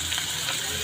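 Winged beans hitting a hot pan of Ilocano pinakbet with squash already cooking, giving a steady close sizzle and frying hiss that runs continuously through the short moment.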